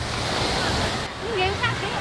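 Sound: big waves at Carita beach

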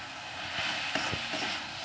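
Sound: sautéing mint leaves in a pan for chutney

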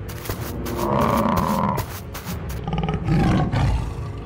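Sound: tigers roaring in cartoon

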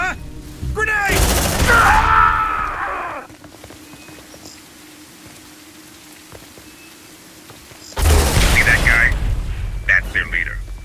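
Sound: gunfire and explosions in the video game Aliens: Dark Descent

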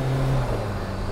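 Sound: turbocharged car accelerating under boost

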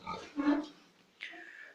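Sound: sows grunting on a pig farm

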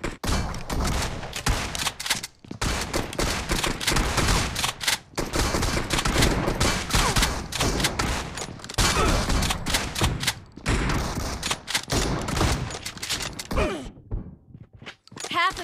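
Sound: gunfire from the video game PUBG Mobile

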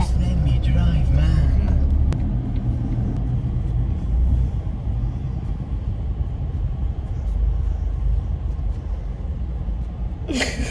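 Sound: car driving on the road

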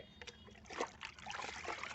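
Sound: stirring compost water

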